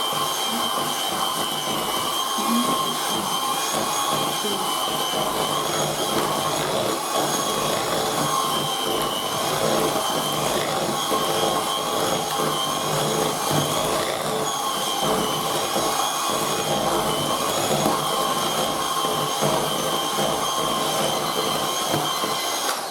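An electric mixer beats cake batter at speed 2, a steady whirring drone running evenly throughout, close and fairly loud, with no talking over it.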